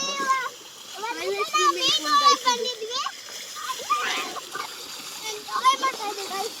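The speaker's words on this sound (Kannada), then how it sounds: "ಅವ್ರು ನೋಡಿ ಗಂಗಾ ಜಲದಲ್ಲಿ ಸ್ನಾನ ಮಾಡ್ತಾ ಇದ್ದಾರೆ. ಮುಟ್ಕೊಂಡೆಲ್ಲ ಮುಳುಗ್ತಾ ಇದ್ದಾರೆ." Water splashes repeatedly as people bathe and dip in a swimming pool, with children's voices chattering and calling over the splashing throughout.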